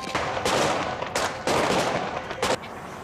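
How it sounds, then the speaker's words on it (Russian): Gunfire at a shooting range: several loud bursts of rapid shots separated by short pauses, close and sharp, with no talk over them. "Давайте, на стрельбу."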